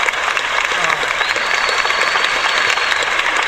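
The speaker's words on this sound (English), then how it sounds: "I can't hear anything without applause" Audience applause in an interview setting at a guitar shop for guitarist Paul Gilbert, a dense steady wash of clapping held at even loudness throughout, with some voices mixed in.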